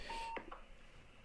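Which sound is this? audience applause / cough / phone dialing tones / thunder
phone dialing tones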